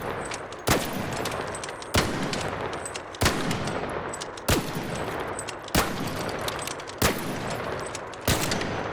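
An Osprey gun in a video game fires single loud, sharp shots at an even pace, about seven in all, each roughly a second and a half apart with a short tail after it.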